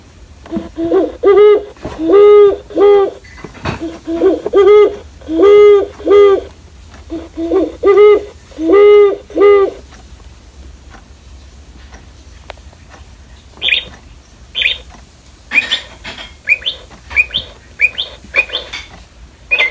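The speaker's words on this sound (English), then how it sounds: "let's go ahead and go through the bird songs together, starting with the great horned owl" A singing bird clock plays its recorded great horned owl call: a run of deep, evenly spaced hoots repeating loudly and alone, followed by higher, sharper chirping bursts near the end.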